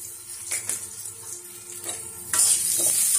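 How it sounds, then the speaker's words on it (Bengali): Onions and chilies fry with cumin in a pan for homemade noodles, a continuous close sizzle broken by several spatula scrapes and stirs, growing louder and hissier near the end. "দিয়ে সুন্দরভাবে পেঁয়াজ মরিচটা ভেজে নিচ্ছি।"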